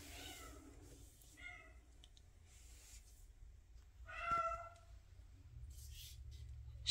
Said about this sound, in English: She's also one of Molly's kittens, one of the two Lynx Point Siamese kittens that she had